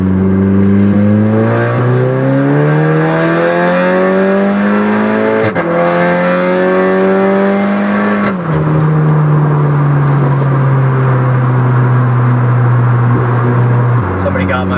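Tuned turbocharged car on a highway with its boost turned up, engine loud and close inside the cabin, revs climbing steadily through third gear, a sharp shift, then rising in fourth before easing off.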